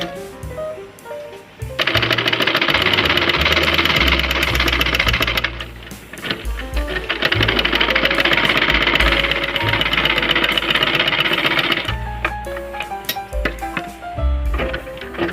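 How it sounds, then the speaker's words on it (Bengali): A sewing machine top-stitches palazzo pants fabric in two long, loud, steady runs with a short pause between them, then softer stop-and-start stitching at the end. "এর ওপর দিয়ে আমরা একটা চাপ সেলাই দিয়ে নেব।"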